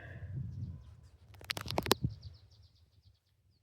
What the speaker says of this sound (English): These birds, these nuthatches, they love these dead trees.